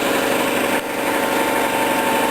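A drill press fitted with a 1/4 inch drill bit runs steadily in a workshop, a constant loud motor whine and hum with no pause, close up.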